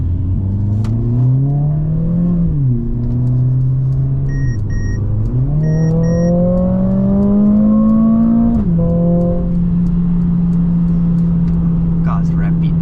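A Mercedes-AMG CLA45S 4Matic+ accelerates hard in Sport Plus mode, its engine note climbing through several gears with brief dips at each shift, loud and close from inside the cabin, with a person talking over it.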